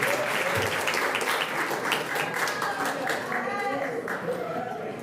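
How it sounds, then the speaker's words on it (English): Audience applause at a grand final stage event for a summer challenge, steady dense clapping from a crowd filling the room, with voices and cheering mixed in throughout. "a nice round of applause"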